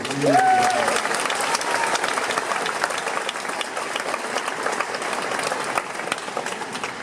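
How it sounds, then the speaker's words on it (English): Applause for the parents at a Stuyvesant High School graduation ceremony, a large crowd clapping steadily throughout, with a brief voice at the very start before the clapping carries on alone. "let's just give another round of applause to the parents"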